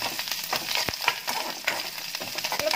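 Green chillies and curry leaves fry and sizzle in a pan while Kerala-style beetroot pachadi is being made, a close, steady crackle broken by sharp spatters and stirring scrapes.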